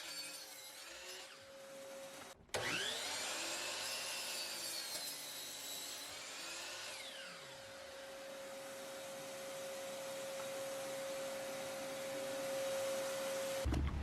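A miter saw spins up with a sharp start, its blade whining steadily as it cuts through a wooden garden bed post, the tone dipping under load before the motor runs on and winds down.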